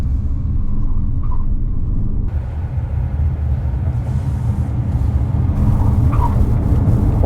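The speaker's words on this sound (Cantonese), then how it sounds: "一上到咁上下速度咧，佢個 tyre noise 咧就會大啲啦" Cabin view of a Jaecoo J5 EV electric car at speed, with a steady low rumble of tyre and road noise from GT-brand Chinese-made tyres coming up through the floor, continuous and fairly loud with no talking.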